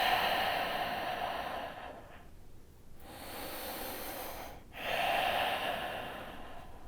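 Slow, deep yoga breaths, long airy inhales and exhales with a clear pause between them, soft and close with no talking.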